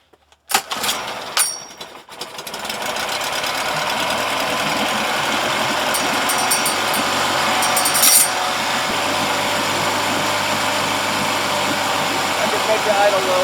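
A Honda 7.5 HP outboard motor, nearly fully restored, catches after a few rough bursts and settles into a steady, loud idle that drones on close by.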